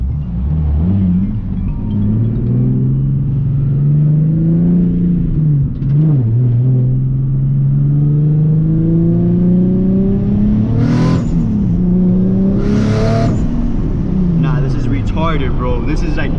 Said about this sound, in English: I hate launching this car.